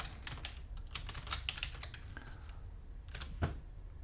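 A password is typed on a computer keyboard in quick, quiet bursts of close key clicks with short pauses between them.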